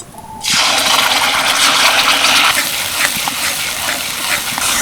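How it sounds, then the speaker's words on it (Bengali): Spice paste drops into hot oil with an instant loud hiss that becomes a steady, dense sizzle and crackle. It stays strong and continuous close by as the paste fries. "এবার আমি যে পেস্ট করে রেখেছিলাম আগে থেকে মশলাটা সেটাই দিয়ে দেবো"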